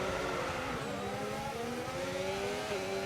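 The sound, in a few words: race car engine revving at a race start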